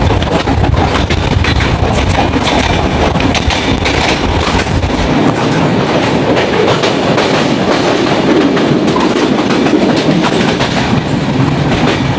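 The Jahanabad Express runs through a town market, giving a loud, steady on-board roar of wheels and carriages with rhythmic rail clatter, the deep rumble easing partway through.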